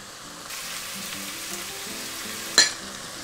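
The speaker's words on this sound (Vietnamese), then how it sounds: "Tiếp đến là mình sẽ cho cái phần cà chua hồi nãy mình cắt hạt lựu vào ha." Diced tomatoes with their juice hit a hot pan and set off a sudden broad hissing sizzle that holds steady, with one sharp utensil clink near the end.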